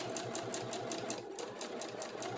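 A sewing machine stitches close along a bodice facing edge for a flower girl dress, its needle clattering in a fast, even, repeating rhythm at a fairly quiet level, with no talk.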